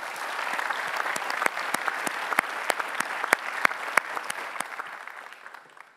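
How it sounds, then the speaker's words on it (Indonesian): Audience applause on a televised Indonesian talk show about supporting the KPK, with sharp individual claps standing out over the crowd's clapping before it tapers off toward the end. "Kita kasih tepuk tangan Mbak Alisa Wahid."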